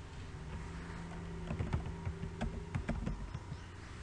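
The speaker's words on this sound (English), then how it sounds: "now I type here" Quiet, close-up tapping on a computer keyboard, keys clattering in uneven bursts after a brief pause, with no voices.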